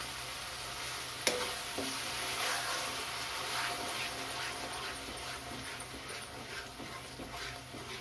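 Masala pasta cooking on high heat as tomato sauce goes into the pan, a steady close sizzle with a sharp clack near the start and light stirring scrapes.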